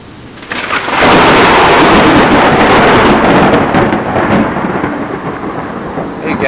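Loud thunder rolls and rumbles through a lightning storm in Waco, Texas, rising sharply after a quieter start and sustaining a broad roar with rain and wind buffeting the microphone, no voices present.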